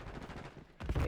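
Gunfire in a Call of Duty match, with a quick burst of loud rapid shots near the end after a rattling stretch of softer fire, with no voices.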